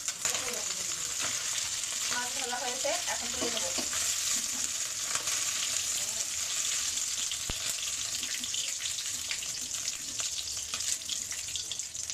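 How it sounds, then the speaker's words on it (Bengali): Small mola fish, rubbed with salt and turmeric, fry lightly in mustard oil in a pan, making a steady hissing sizzle for about twelve seconds. Occasional spatula clinks and movements sound over it, and no one talks. "তেল সর্ষের তেল মাছটা হালকা ভেজে নেবো"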